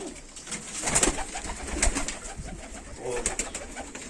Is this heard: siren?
no